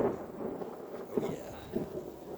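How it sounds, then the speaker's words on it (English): Low thunder from an approaching storm rumbles at a distance outdoors, with a couple of soft swells breaking through steady, broadband background noise. "it's a nice little storm moving in"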